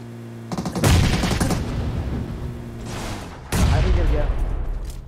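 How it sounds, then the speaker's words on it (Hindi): Bombs burst in a shooting video game, two heavy booming blasts with rattling gunfire and debris between them, loud and close, while a voice talks faintly underneath. "भाई रुको रुको बहुत बम इधर उधर गिरा है"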